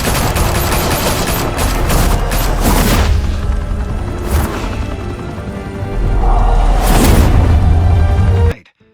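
Heavy gunfire erupts in the Batman Telltale Series video game, with dense rapid automatic bursts and booming shots layered continuously at loud volume before cutting off abruptly.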